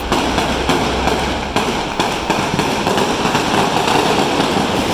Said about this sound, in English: those are a lot of firecrackers going off right now.